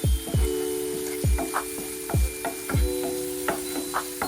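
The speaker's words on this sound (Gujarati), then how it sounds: "ટમેટાને સારી રીતે સાંતળી લઈશું" Tomatoes sautéing in a pan, with regular spoon or spatula strokes knocking the pan about every half second over a steady sizzle, close and clear.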